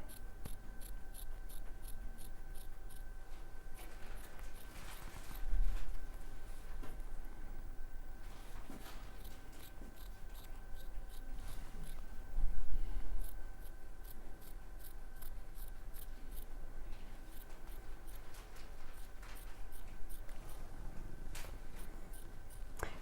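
Sewing scissors trimming away excess fabric to about an eighth of an inch, heard as a quiet, close series of crisp snips and slicing strokes with a couple of louder handling bumps.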